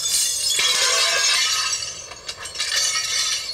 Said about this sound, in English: he crashed it through one of the big plate glass windows.